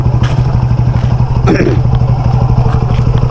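A new motorcycle's engine idles loudly and close by at the seaside with a steady, throbbing putter, and a brief clatter partway through.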